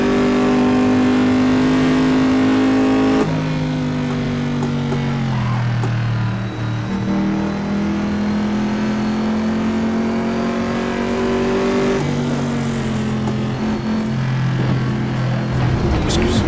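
Racing car engine in the PC game Assetto Corsa, a loud continuous drone with steady harmonic tones that shift pitch as the car revs and changes gear, filling the whole stretch with no pauses.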